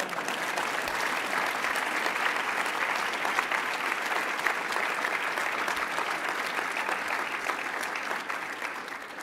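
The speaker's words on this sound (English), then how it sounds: "Now you can applaud." An audience at an annual general meeting applauds in a continuous, even wash of clapping from many hands, steady throughout and slightly tapering at the end.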